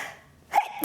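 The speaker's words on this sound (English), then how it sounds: "I'm gonna sneeze." One brief, sharp sneeze, set off by flour, bursts out after a moment of near silence, close and fairly loud.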